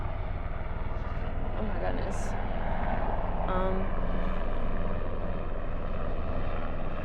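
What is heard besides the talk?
helicopter flying close overhead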